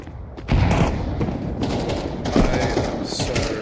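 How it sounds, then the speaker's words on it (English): Grenade blast in Counter-Strike 2 landing amid sustained gunfire, a loud thump near the start followed by continuous crackling shots and another heavy burst midway, with faint voices underneath. "Throwing a grenade!"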